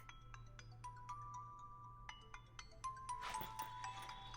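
A phone ringing with an incoming call at home, a faint repeating electronic ringtone of short bright tones over a low steady hum, with no talk.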